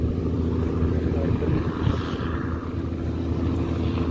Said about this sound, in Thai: เรือบรรทุกแน่นอนนะครับ